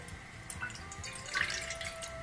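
Water pours and drips into a pan on a stove while making dal chekodi, a soft, thin trickle with faint splashes and no talking.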